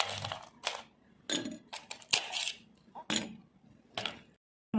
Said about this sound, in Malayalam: ഇനി 1-2 പീസ് ഐസ് ക്യൂബ്സ് ഇട്ട് കൊടുക്കാം.